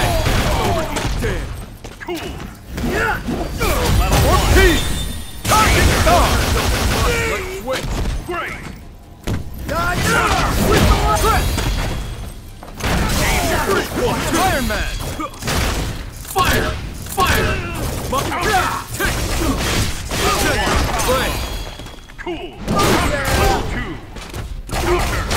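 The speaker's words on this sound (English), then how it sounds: "Satellite laser! Fire!" Iron Man's satellite laser attack in Marvel vs Capcom Infinite, a barrage of loud booming blasts and thuds firing in rapid bursts, mixed with game announcer callouts and character voices.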